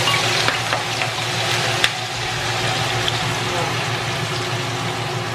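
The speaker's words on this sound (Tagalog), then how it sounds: "Iprito na natin." Tofu frying in hot oil, a steady dense crackling sizzle throughout with a low background hum and an occasional light tap, no clear speech over it.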